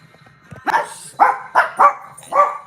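Dogs bark indoors, a handful of loud, close barks in an irregular burst after a faint whimper, with no one talking over them.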